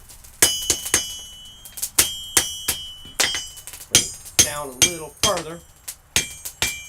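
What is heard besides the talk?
hammering knife blade on anvil horn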